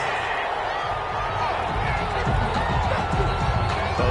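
A Madden 21 stadium crowd reacting angrily to a penalty flag, a steady, loud roar of massed voices filling the space, with a commentator speaking over it.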